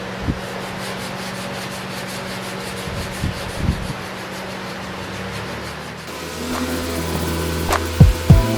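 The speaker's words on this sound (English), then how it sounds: "Now we'll go ahead and wet sand this again with 400 grit." Wet sanding of car paint with 400 grit sandpaper on a 2009 Toyota Yaris, a steady rubbing scrape with occasional soft knocks, close and continuous before other workshop noise takes over in the final seconds.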